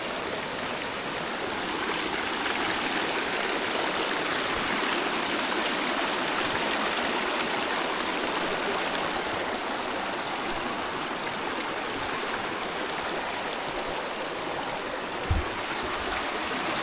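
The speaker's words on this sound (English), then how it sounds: "Water's flowing in over there." A mountain creek in the Pecos Wilderness pours into a cave entrance, giving an even, unbroken roar of nearby flowing water with a single low thud near the end and no talk.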